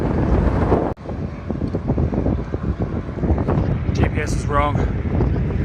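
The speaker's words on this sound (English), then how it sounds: "The wind is still running just as strong as it did before. Right in my face." A strong headwind blasting the microphone while riding, a loud continuous roar throughout with a brief dropout, and someone speaks a few words over it.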